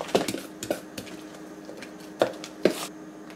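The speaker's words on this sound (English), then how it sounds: "So I'm going to put this chopped onion, coriander and this chilies and mix it well." Chopped onion, coriander and chilies mixed into paddu batter in a bowl, giving close, wet squishes and sharp spoon-against-bowl clinks in an uneven rhythm, with no talk.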